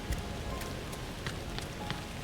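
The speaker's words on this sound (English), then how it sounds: "Ah, rain." Steady rain falls in the video game Aloft, a soft continuous hiss with scattered individual drops ticking through it, quiet and even throughout.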